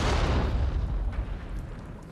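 A gunshot in the video game Nioh 2 lands as a heavy, booming report with a deep low-end thump that rolls off and decays over about two seconds.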